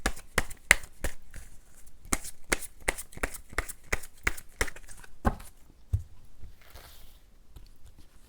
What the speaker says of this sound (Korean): 제가 추가 카드 뽑아본 다음에 리딩을 조금 마무리하도록 할게요.